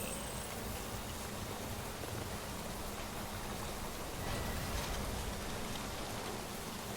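Steady, dense rain of timefall pours down across a Death Stranding landscape, a continuous hiss with a faint insect-like buzz woven through, even and unbroken throughout with no voices.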